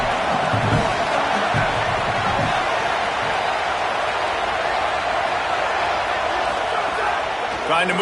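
A college football stadium crowd roaring in a broad, steady wash of cheering that fills the whole stretch, loud and sustained, with a few thumps early on.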